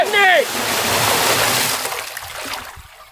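A short voice at the start, then a rushing splash of plain cold water being poured while cooking mutton biryani, fading out toward the end.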